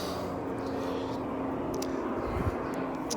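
A helicopter flies overhead, producing a continuous, fairly loud broadband engine drone that holds steady throughout.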